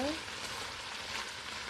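Spicy pork bulgogi stir-fries in a pan over high heat with a dense, hissing sizzle, close and steady through a brief moment, with a short voice fragment at the start.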